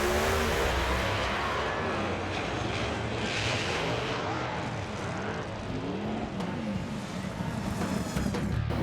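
NHRA Pro Modified drag race cars tearing down the track in St. Louis, a loud roaring blast with rising and falling engine sweeps and a passing rush, heard from the trackside crowd.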